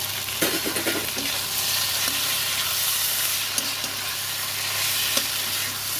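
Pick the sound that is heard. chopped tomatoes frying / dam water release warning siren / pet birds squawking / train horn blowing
chopped tomatoes frying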